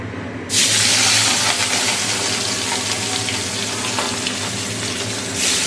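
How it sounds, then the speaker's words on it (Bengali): Fish dropped into hot oil in a home kitchen pan starts sizzling suddenly, a loud, steady, close hiss that carries on with little change and swells again near the end. "দেখো তেলটাকে কড়া করে ভাজছি"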